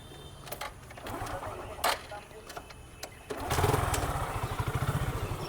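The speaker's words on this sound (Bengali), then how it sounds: "একবার দেখিয়ে দাও যে কম দামের বাইক একবার একটু চালু করে দাও তো প্লিজ" A cheap second-hand motorcycle at a used bike showroom sputters to life after a few clicks and bursts, then settles into a rapid, pulsing idle close by while people talk.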